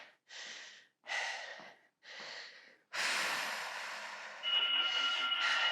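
Heavy, rhythmic breathing during a strength-cardio workout, with three sharp exhale bursts followed by a longer sustained huffing breath, close and loud, with no talking.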